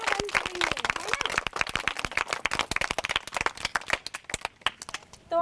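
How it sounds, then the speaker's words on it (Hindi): Group of village children clapping together in a burst of dense, uneven handclaps, loud and close, tapering into scattered claps toward the end. "सब लोगों के लिए ताली बजाते हैं"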